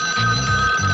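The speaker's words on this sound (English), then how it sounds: "Suffering spaghetti, it's the pizza phone." A television pizza phone rings with a steady electronic bell tone, sustained and loud, with no speech over it.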